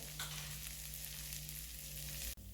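Zucchini frying in a pan for rigatoni with saffron and pancetta: a steady, dense sizzle holds close and even throughout, with a brief dip near the end, no voices.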